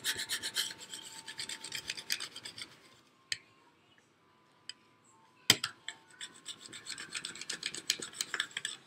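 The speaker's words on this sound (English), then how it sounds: "watch as you're scraping too that you don't lift up any of the edges" Stencil material pressed onto a painted wood sign with a scraper: close, rhythmic rasping strokes that stop briefly in the middle, then resume in quicker bursts.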